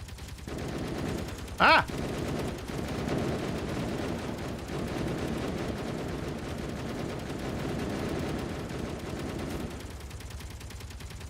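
Sustained video game gunfire, a dense rattle of automatic shots running for most of the stretch under a brief shouted exclamation, then cutting off near the end.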